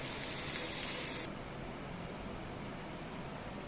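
Frying in a pan with a light coating of oil gives a steady, close hiss that is brighter and louder for the first second or so, then settles into a softer, even sizzle.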